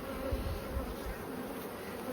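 Honeybees at an open hive during a spring inspection, giving a soft continuous buzzing drone, faint but steady, with no voices.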